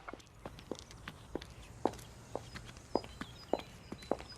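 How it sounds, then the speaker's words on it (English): Footsteps of people passing on a footpath, including women's high-heeled shoes: a steady series of sharp, clicking heel strikes, moderately near and distinct, with fainter scuffing steps and light outdoor background noise between them. "I hear the footsteps of people walking past me on the footpath."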